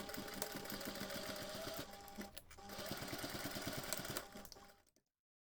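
A sewing machine bastes a connector onto a backpack strap with a steady mechanical whirr of rapid stitching. The motor stops near the end and silence follows.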